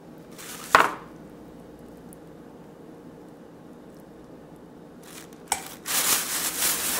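A knife cutting through a shell-on shrimp on a board: a sharp crunching crack early, then quiet, followed by another crack and a rough scraping cut near the end, close and crisp.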